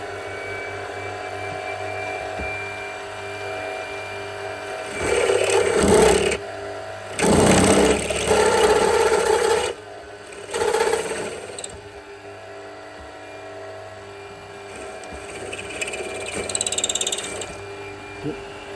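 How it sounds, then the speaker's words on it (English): A drill bores holes through a plate clamped down to a steam tram's floor, giving loud rattling, chattering bursts around five to ten seconds and again near sixteen seconds, with a quieter mechanical hum between them. "it does make a bit of a cluttering noise while it's drilling"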